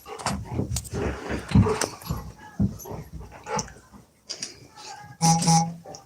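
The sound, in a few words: dog barking and whimpering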